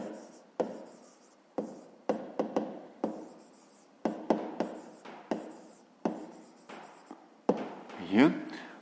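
Pen writing by hand on paper while working a grade 5 math exercise, a series of soft scratchy strokes and taps spaced unevenly under a quiet voice that talks through the problem.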